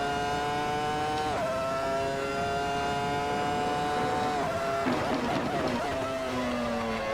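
Race car engine on track, loud and close, holding steady high revs with quick pitch drops at each rapid downshift and a burst of rough crackle mid-run.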